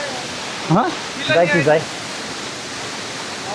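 A waterfall near Kathmandu roars as a constant broad wash of falling water, with brief voices speaking over it near the start.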